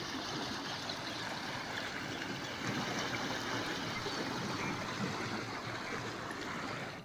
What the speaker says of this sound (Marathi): गेल्या 2 दिवसांपासून सुरू असलेल्या दमदार पावसामुळे नद्या नाले प्रवाहित झाले